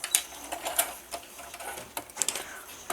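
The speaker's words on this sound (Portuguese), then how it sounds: "Pode passar uma costurinha bem reforçada," A sewing machine stitches a reinforced seam on a small fabric coin purse, rattling in quick close bursts with brief pauses as the seam goes forward and back. The bursts are fairly quiet and no one talks.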